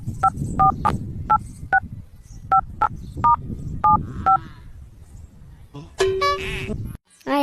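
A telephone number is dialed in a series of short, evenly spaced keypad tones, followed by a longer ringing tone, with voices and background noise underneath.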